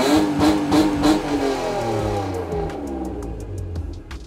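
A BMW E46 drift car engine with a burble tune revs up and then drops back, its tone sweeping down into a crackling, popping burble on the overrun, close and loud.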